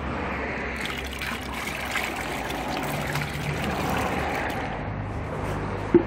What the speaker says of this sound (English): just water it down slightly, a little bit of water, not too much